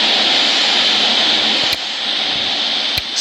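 Airliner jet engines spool up in a flight simulator game, a loud, steady, close roar with a sharp click or two and no talk.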